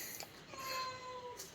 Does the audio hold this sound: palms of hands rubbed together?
no